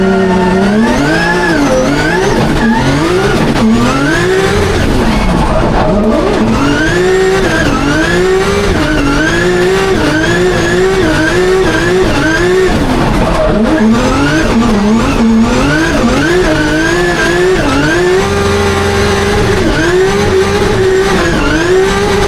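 A drift car with a Wisefab steering setup at Drift Masters in Spain screams around the track, engine revving up and down in long sweeping surges with tire squeal throughout, loud and continuous, no talking.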